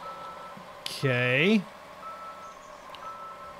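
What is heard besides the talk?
concrete truck reversing beeps, video game Demolish & Build Company 2017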